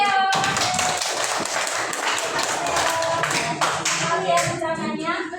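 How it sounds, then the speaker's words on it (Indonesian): A school class gives a round of applause for a student: dense, steady hand clapping from many pupils filling the whole stretch, fairly close, with a few sharper individual claps and faint children's voices mixed in. "tepuk tangan untuk Mas Leo"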